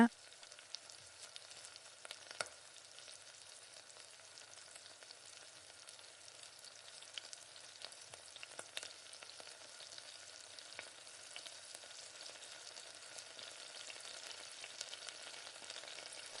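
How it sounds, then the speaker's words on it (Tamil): Pakoda pieces deep-frying in oil until crisp: a soft, steady crackling bubble with small pops, faint and continuous with no talk. "இப்போ எல்லா பக்கமும் நல்லா இந்த மாதிரி கிறிஸ்பியாக வர அளவுக்கு பொறிச்சிடுங்க"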